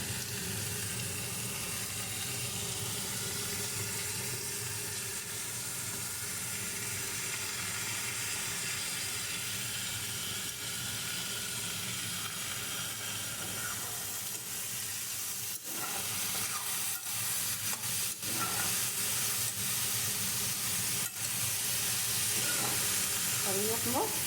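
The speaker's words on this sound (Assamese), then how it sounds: "এইখিনি মচুৰ দাইলখিনি ইয়াতে দি দিম।" Red lentils fry in a hot pan on a home stove. A steady, dense sizzle runs throughout with faint steamy hiss, and a few soft scraping stirs come near the end.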